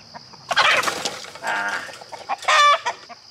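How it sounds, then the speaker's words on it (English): A rooster being chased and caught squawks and clucks loudly in three sharp bursts, close to the microphone, with brief wing flapping between them. "that's the rooster I'm trying to catch"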